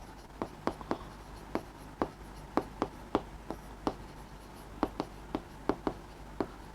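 Chalk or marker taps and short strokes on a board as a tally table is written, with a series of sharp, close ticks at an irregular rhythm against a quiet room.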